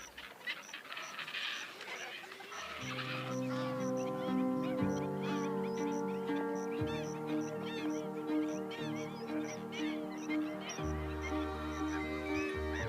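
Water birds at Lake Manyara call in a dense, continuous chorus of overlapping honks and quacks, steady and fairly loud after a quieter opening.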